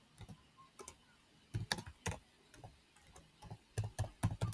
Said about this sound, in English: I'm going to type them in manually.